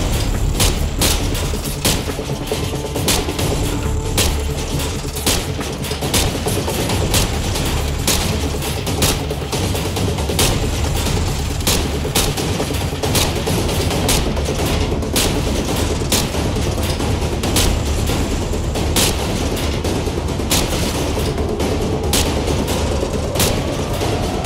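Rifle fire at pop-up targets on a shooting range in Call of Duty 4, rapid repeated gunshots cracking loudly and continuously over a dense game soundscape and background rumble.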